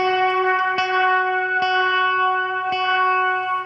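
Sustained chords run through a Death By Audio Rooms reverb pedal with the depth cranked up, three sharp strums cutting through a continuous wash of reverb, loud and with no voices.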